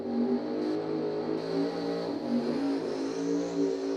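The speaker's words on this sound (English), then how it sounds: "Dramatic pause for the loud car." A loud drag racing car revs at the dragway, its engine holding a dense, steady roar with slight surges in pitch, heard from a moderate distance without voices.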